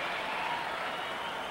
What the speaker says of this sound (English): that's why the crowd was cheering